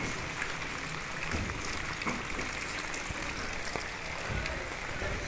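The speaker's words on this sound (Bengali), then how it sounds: "দেখলে বুঝতে পারবেন কেমন বৃষ্টি পড়তেছে।" Steady rain pouring down in a hilly area, a continuous dense hiss with scattered heavier drops and spatters, moderately loud and constant throughout with no voices.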